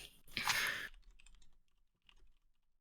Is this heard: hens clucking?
no